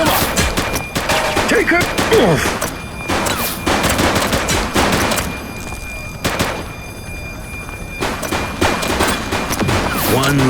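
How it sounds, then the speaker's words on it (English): Rapid gunfire bursts crackle through a police shootout in a video game, loud, close volleys of shots repeated across the scene, with shouted voices breaking in between. "He's shooting!"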